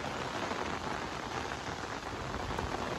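Continuous monsoon rain falls steadily during days of flooding, making a soft, even hiss of drops on surfaces that is fairly quiet and unbroken.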